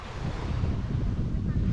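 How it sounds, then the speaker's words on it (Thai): Strong storm wind buffets the microphone over a heavy roar of sea waves, loud and continuous with no clear pauses. "ดู พายุมาแล้วนี่ ไล่หลังมาเลย"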